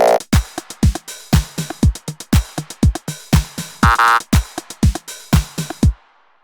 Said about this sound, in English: if I play that along with the 909 drum kit